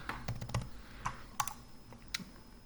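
Keys tapped on a computer keyboard while a birth date is entered into a database template form, a quick irregular run of close, crisp clicks with short pauses and no talking.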